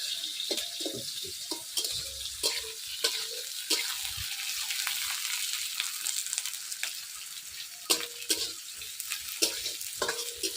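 Sliced onion frying in oil with cinnamon and cardamom, a constant bright sizzle broken by repeated spatula scrapes and knocks against the pan, no voices.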